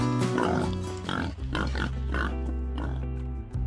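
Many pigs grunt and oink densely inside a huge multi-storey pig farm building in China, a loud, continuous chorus of overlapping calls with a steady machinery hum underneath.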